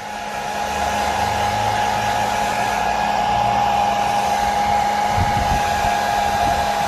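Hair dryer blowing to dry and warm a gel badge overlay on an Abarth car, a steady close whooshing drone with a constant tonal whine, running continuously after a quick start.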